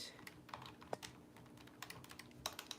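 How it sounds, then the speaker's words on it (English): Rapid, irregular clicks of typing on a computer keyboard, close and fairly quiet, with short pauses between bursts of keystrokes. "Oh, Lord, my typing."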